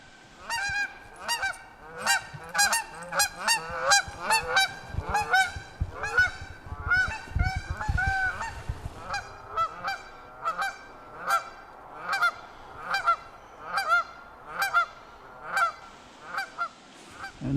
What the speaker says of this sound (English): Amphibians, the ducks, waterfowl, geese.